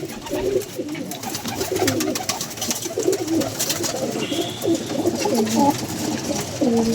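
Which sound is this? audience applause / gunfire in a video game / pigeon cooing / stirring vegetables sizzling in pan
pigeon cooing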